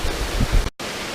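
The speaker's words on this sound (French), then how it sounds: "c'est plein de petites cascades" Small waterfalls cascading down a hillside trail produce a steady broadband rush of falling water, with low thumps near the start and a brief dropout before the flow resumes.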